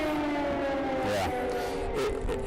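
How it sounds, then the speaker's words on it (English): Air raid sirens wail over Kyiv during the war in Ukraine, a steady, fairly faint distant tone that bends in pitch, heard alone with faint background murmur. "You hear those sirens?"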